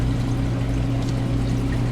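A freshwater hose in an animal care room pours water in a loud, steady, unbroken rush with a low hum underneath throughout.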